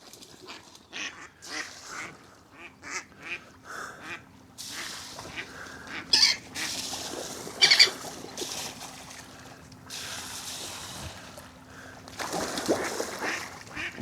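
Ducks quacking around a fishing spot at a lake, scattered short calls at close to moderate distance, coming in intermittent bursts over quiet outdoor background.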